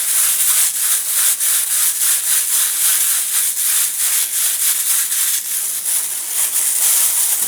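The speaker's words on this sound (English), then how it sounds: "what we want to do is completely crinkle the entire surface of this covering" Plastic covering on a model airplane wing crinkled and massaged by hand, giving a steady, close crackling rustle with rapid irregular pulses lasting throughout, no talk.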